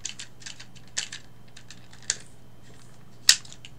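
Sharp plastic clicks from a G2 Megatron transforming toy as its feet are flipped out, a few distinct close snaps spaced unevenly over soft handling rustle and a faint steady hum.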